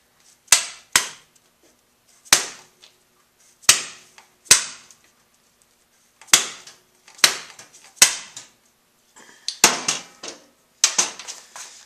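Hand impact driver struck with a hammer to loosen a screw on a Honda CRF 50 during a big bore kit install, a series of about a dozen sharp, loud metallic bangs at irregular intervals with short ringing tails.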